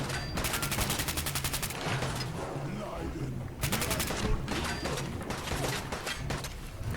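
Rapid automatic gunfire in the Fallout 4 video game, Far Harbor DLC, inside the Vim Pop factory, with two loud sustained bursts separated by a short gap and denser shots and impacts between them.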